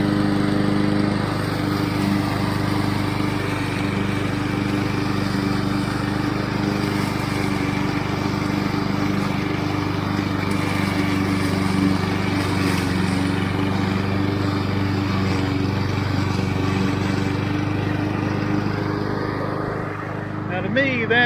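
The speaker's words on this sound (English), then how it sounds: "when I get out into this drier grass where it's been in the sun, I seem to be able to mow at a fair pace" Honda HRC216 commercial walk-behind lawn mower cutting dry grass, its engine droning steadily and loudly for the whole stretch while someone talks over it.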